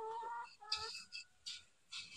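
A rooster on a farm gives soft clucks and short harsh calls in several separate bursts, close and moderately loud against a quiet outdoor background.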